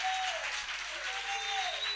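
A church congregation applauds steadily through a worship service, dense clapping filling the space at an even level while faint sustained tones drift beneath.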